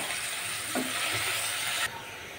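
Coriander powder and chili powder frying in a pan as a base for a spicy fish curry, giving a steady close sizzle with a brief stir partway through, then cut short.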